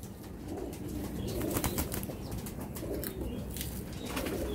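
Several pigeons keep up a steady, close cooing in a crowded loft, with a burst of wing flaps near the middle and no voices over it.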